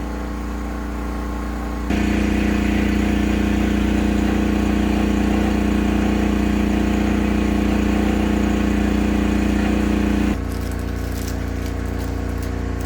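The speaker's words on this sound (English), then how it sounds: "I had to fill up the generator to make sure the generator keep running." A petrol generator runs after refuelling during an ice storm in Memphis, Tennessee, a loud, close, steady engine drone that grows louder for several seconds in the middle and then settles back, with no voices.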